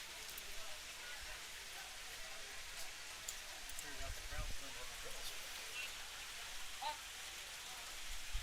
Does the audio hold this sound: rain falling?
yes